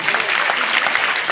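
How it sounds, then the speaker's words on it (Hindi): An audience at a school annual function in Chhapar applauds in a steady, dense wash of clapping that holds at an even level throughout. "आप तालियों में कंजूसी क्यों करते हो?"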